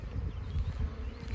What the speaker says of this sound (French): les abeilles, elles rentrent, elles sortent